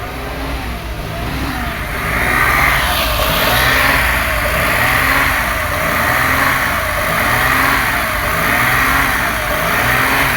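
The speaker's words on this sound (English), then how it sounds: "listen to what the engine is doing" A 2005 Toyota Passo engine running at close range, a steady mid-pitched drone that rises into revving and holds at the higher speed, loud with no talk.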